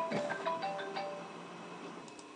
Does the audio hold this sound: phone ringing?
yes